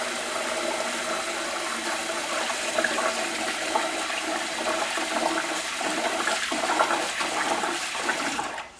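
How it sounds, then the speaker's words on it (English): Tap water pours steadily into a pot to wash rice, a continuous close rushing splash lasting several seconds with no voices. "So we turn on the tap, pour it directly into the pot."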